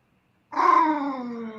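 A dog lets out one drawn-out, tonal whine that rises suddenly from silence and holds for about a second, fairly loud and close, with no talk over it.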